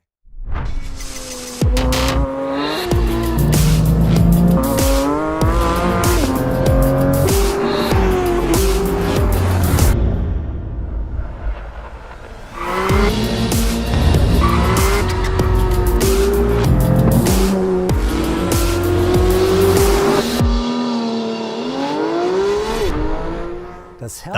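A Porsche 911 GT3 (2024) with a high-revving 510-horsepower 4-liter naturally aspirated engine screams loudly through rising gears toward 9,000 rpm, with tire squeal and two long howling runs separated by a brief pause.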